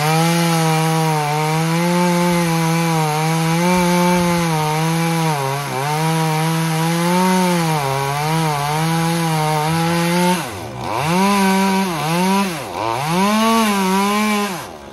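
Chainsaw cutting into a mango tree at a home among power lines, the engine droning loud and close, rising and dipping in pitch as the chain bites into wood, with no voices.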